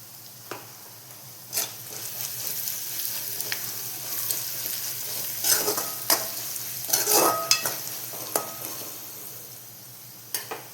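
Onion masala being sautéed in a pan with ground spice powder: a steady soft sizzle under repeated scrapes and clinks of a spatula stirring against the metal, with sharper knocks scattered throughout.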